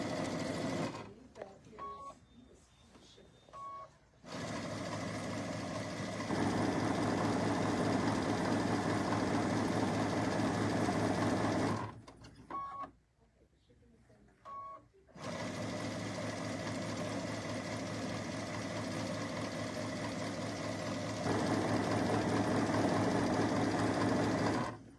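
A sewing machine runs in steady rapid bursts as it stitches a pieced fabric placemat. Two short pauses break the stitching, and someone speaks quietly over the close mechanical whirr.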